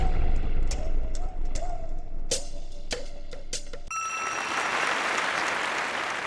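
Game show audience applause on Family Fortune bursts in after a few ringing dings and some background noise, a dense, loud wash of clapping that carries steadily to the end.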